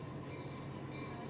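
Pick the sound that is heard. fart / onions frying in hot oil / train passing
train passing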